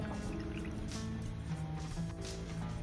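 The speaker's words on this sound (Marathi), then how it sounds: "त्यानंतर त्यामध्ये पाणी ऍड करायचं।" Water poured into vinegar in a bowl, a steady close liquid stream with light splashing and trickling throughout, no talking.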